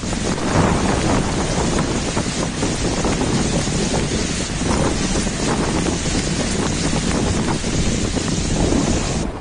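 Strong wind roars steadily with waves crashing around the MT Basra, a merchant tanker stranded near the shore during Cyclone Nisarga, loud and continuous throughout with heavy buffeting on the microphone.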